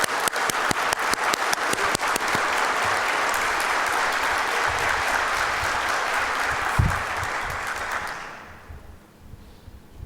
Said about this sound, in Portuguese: eu gostaria de deixar a minha salva de palmas a todos vocês